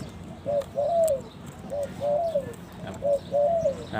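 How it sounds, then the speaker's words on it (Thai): Four Liu Tan decoy birds, about four years old, cooing nearby in three evenly spaced rounds, each a short note followed by a longer rolling coo, over faint background hum. "เป็นนกต่ออาชีพครับสี่ตัวนี้"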